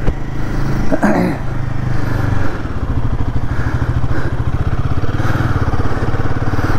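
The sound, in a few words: Royal Enfield Himalayan 450 motorcycle riding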